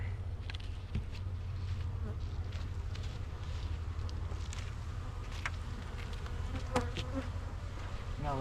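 Many honey bees buzz continuously around a hive during a spring hive inspection, a busy steady hum with occasional clicks and light wind noise, no talking.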